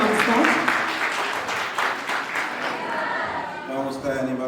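School assembly audience gives the principal a round of steady, dense clapping throughout, bright and close, with a voice speaking over the applause.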